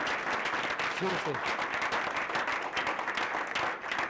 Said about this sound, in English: Give these guys a huge round of applause.